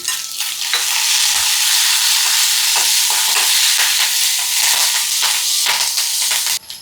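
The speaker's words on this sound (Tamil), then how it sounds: "இப்போ கருவேப்பிலை சேர்த்துக்கிறேன்" Curry leaves frying with shallots in hot oil, a loud dense sizzle with bursts of spitting crackle and occasional stirring scrapes, continuous and close, with no talking.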